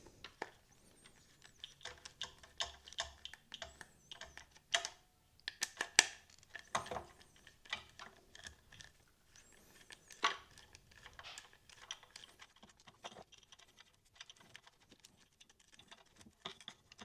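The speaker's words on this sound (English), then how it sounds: "let's unscrew all of them." Screws being removed from a Ninebot MAX G2/G30 scooter controller, a quiet irregular series of small sharp clicks and ticks with short pauses between them, close up and with no talking.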